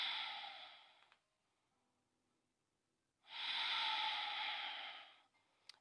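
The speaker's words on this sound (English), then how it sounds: "Kitty grunts." A cat grunting and snoring, two long breathy rasping snores separated by a quiet pause, close and fairly loud with no talk over them.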